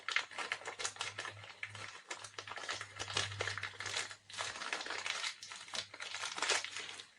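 Stiff plastic packaging around a new Shovelhead pinion gear crinkles and crackles close up in irregular bursts while being torn open, with a faint steady hum underneath.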